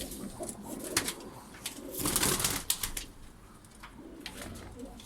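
Performance pigeons coo softly in a loft, a few murmuring calls mixed with brief rustles and wing flutters close by.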